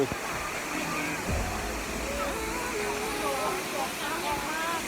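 Constant rushing roar of a waterfall near E-Thong village, Pilok, Thailand, fills the scene, a steady broadband hiss with faint voices talking beneath it.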